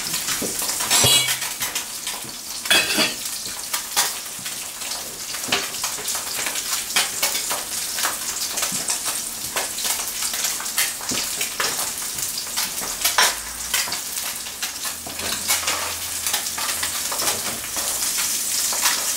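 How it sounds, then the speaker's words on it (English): Sea bass fillets frying skin-down in a pan, a continuous bright sizzle and crackle with scattered pops and a few clinks of utensils against the pan, close and fairly loud with no talking. "Just checking that all of the content, all of the skin of the fish is in contact with the pan."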